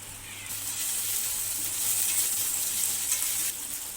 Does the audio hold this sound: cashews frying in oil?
yes